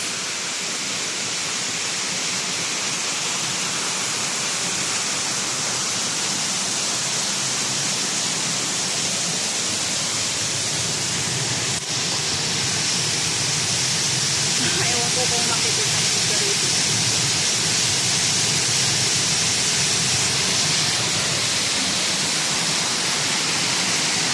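An artificial waterfall in Hong Kong Park gives off a steady, full-bodied rush of falling water that holds at an even, loud level from start to finish with no breaks.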